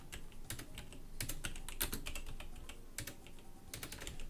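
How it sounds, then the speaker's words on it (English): Touch typing on a computer keyboard in irregular bursts of crisp, close key clicks, with no talk. "Also, I'm touch typing now. I'm forcing myself to touch type."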